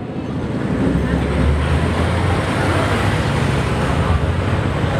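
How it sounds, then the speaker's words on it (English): A BMW M5 car passing in road traffic, a loud, close broadband roar of engine and tyre noise that swells early and holds steady throughout. "M5 right behind it"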